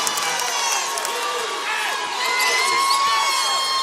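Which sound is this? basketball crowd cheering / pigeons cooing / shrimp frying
basketball crowd cheering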